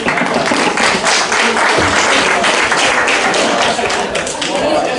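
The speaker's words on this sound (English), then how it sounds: "One more round of applause for all 4 frontliners." Audience applause at a live debate on obesity, a steady dense patter of many hands clapping that fills the room for several seconds, with voices mixed in underneath.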